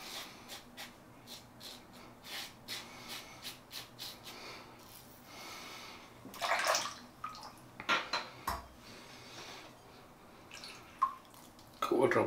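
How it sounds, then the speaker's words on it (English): Drops of water fall into a shaving bowl as scattered, faint, close-up drips and small splashes, some in a loose rhythm and others isolated, over a quiet room background. "Drops of water in the bowl"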